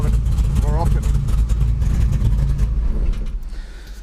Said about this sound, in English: it's happy to idle on probably about 850 revs at the moment